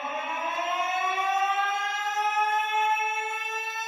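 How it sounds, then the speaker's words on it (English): A siren wails with a long, slowly rising tone, loud and sustained across the whole stretch, with no voices. "The sirens are blowing."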